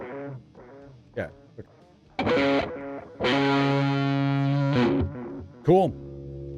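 Electric guitar played through an amp simulator plugin with a delay effect, giving distorted sustained notes and bends whose repeats trail off, with short gaps between phrases.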